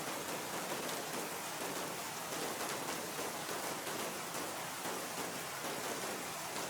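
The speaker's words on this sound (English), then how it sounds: "The rain hit like a wall," Steady heavy rain pouring down on a dark, freezing night, a dense, even hiss that fills the whole stretch with no break and no voices.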